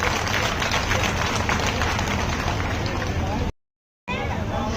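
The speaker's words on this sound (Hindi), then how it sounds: "तालियां आप सभी अपने लिए बजाइए।" Large crowd at a Janakpuri political rally applauding, dense sustained clapping and cheering across the whole stretch, loud and outdoors, broken by a short dropout of silence near the end.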